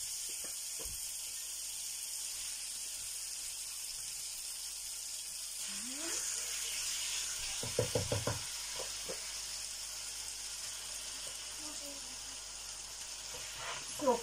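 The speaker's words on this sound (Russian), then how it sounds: "Будем мясо жарить, с вами делать шаурму" Meat for homemade shawarma sizzles in a frying pan, a soft steady hiss with a few scraping and clattering utensil knocks around the middle and end, faint background voices.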